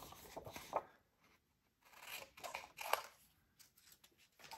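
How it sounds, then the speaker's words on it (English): Scrap cardstock being cut to size with scissors, a few short crisp snips and rustles spaced out between quiet pauses, close and fairly faint. "So I've got this scrap cardstock, and I'm just going to cut it to size"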